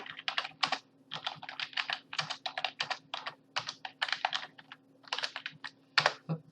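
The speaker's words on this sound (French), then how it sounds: "désolé pour le bruit de mon clavier" Rapid, close clatter of a computer keyboard being typed on during a Legend of Zelda gaming session, with irregular bursts of keystrokes and short pauses, and no voices over it.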